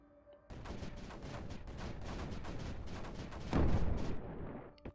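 Sustained rapid battlefield fire in a video game, with mortar rounds among dense overlapping gunfire bursts and a heavier boom near the end, loud and continuous.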